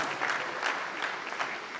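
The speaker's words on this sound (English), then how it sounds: "I want us to really applaud him." An audience at an investor forum in Birim Central applauds steadily, a dense, continuous wash of many hands clapping at moderate distance with no pauses.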